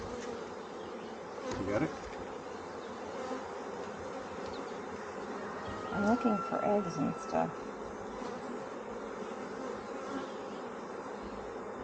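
Honey bees in an opened homestead beehive fill the air with a dense, steady buzz close to the hive, with brief louder swells as bees pass near, while people talk quietly over it.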